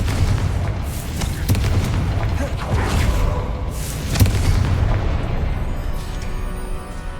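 A Confringo fire spell in the Hogwarts Legacy game sets off loud, rumbling booming blasts, with several sharp bursts over a sustained roar and no clear talking.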